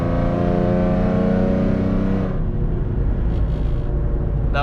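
A Ford Mustang V6 running E85 with long tube headers and an off-road X-pipe revs loudly up to about 4,000 RPM, a dense close engine roar that rises for two seconds, then drops into a rough, rumbling idle.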